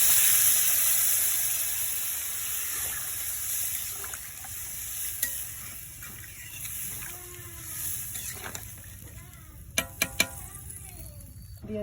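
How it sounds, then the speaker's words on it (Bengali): Water poured into a pan of previously fried potatoes for a homemade aloo dum, giving a steady hiss and simmering sizzle with faint stirring and a few clinks near the end, nearby and with no speech. "আলুটা আমি আগে ভেজে রেখেছিলাম, আর ভাজবো না। এখন আমি দিয়ে দেবো জল।"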